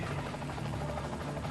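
A helicopter in the video game Renegade Ops drones with a steady rotor buzz and hum, loud and continuous throughout the brief moment.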